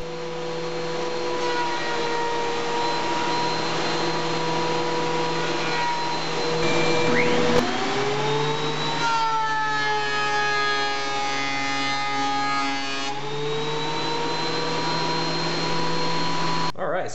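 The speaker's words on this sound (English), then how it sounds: "So I'm ready over at the planer rather, and we're going to run these through and get them flat." A thickness planer runs continuously, feeding boards laid on plywood carrier boards through its cutterhead; a loud steady motor whine shifts pitch as the wood engages and releases, with no talking.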